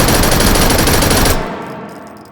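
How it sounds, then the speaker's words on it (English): Thompson submachine gun in the VR game H3VR firing one loud, sustained full-auto burst of rapid shots, then cutting off into a fading echo and quiet clatter. "Thompson, firing correctly."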